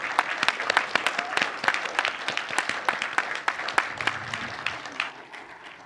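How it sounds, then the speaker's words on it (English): Gala audience gives a round of applause, a smallish crowd clapping with distinct individual claps in a loose rhythm, gradually thinning and fading out over about six seconds. "Round of applause."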